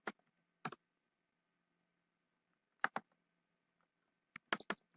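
Scattered keystrokes on a computer keyboard, a few sharp clicks in small clusters separated by silent pauses, close and fairly quiet with no talking.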